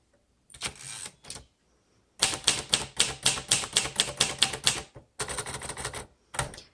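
A 1956 Royal Quiet De Luxe manual typewriter in charcoal being typed on, with a short burst of keystrokes, a pause, then a fast, steady run of loud, close, crisp clacks and a few final strikes, no voices.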